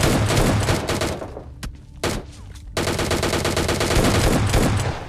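A DP light machine gun fires in the mobile battle-royale game PUBG Lite, delivering loud, rapid automatic bursts with a short pause mid-way, then a resumed sustained stream of shots that continues to the end.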